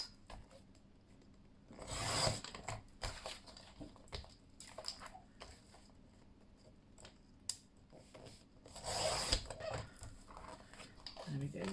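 Scissors or a blade trim raw edges off a paper sheet for an ephemera storage folio, giving soft scraping and rubbing strokes with two louder bursts of cutting amid quiet handling, no talking.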